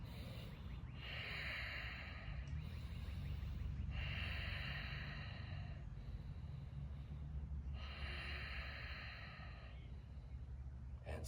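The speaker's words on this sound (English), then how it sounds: "Someone just moaned, heard that?" Participant during a full-body yoga stretch class, with a few soft, breathy exhalations rising and falling in slow repeated waves over a low background rumble, quiet and close.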